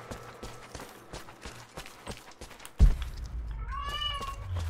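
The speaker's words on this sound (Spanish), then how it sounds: "Vale, el gato quiere salir." A house cat meows to be let out, a short rising call near the end following a thud, over game sounds with footstep-like taps earlier.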